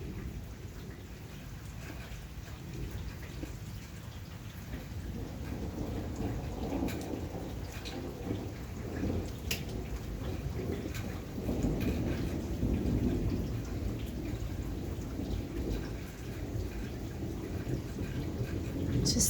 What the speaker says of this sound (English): It's not a very heavy rain. It's just mainly thunder and lightning right now.